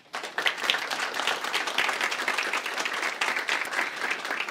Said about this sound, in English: Let's thank our speakers one more time with a round of applause.